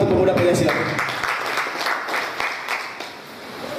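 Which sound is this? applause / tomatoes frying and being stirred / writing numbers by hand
applause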